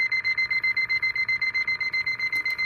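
A portable gas detector alarms during a bump test, sending out a rapid, even train of loud electronic beeps that pulse steadily and close up for the whole stretch.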